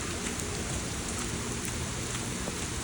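Steady rain falls during Hurricane Debby in a residential neighbourhood, making a dense, even hiss of drops that holds constant throughout, with occasional slightly louder individual drop taps.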